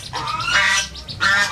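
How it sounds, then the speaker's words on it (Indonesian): Ducks quack in loud, close squawking bursts at a hotel with many animals, several calls in quick succession with a brief pause between groups. "Ada bebek ya?"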